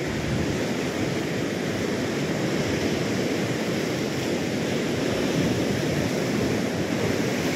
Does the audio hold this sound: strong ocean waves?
yes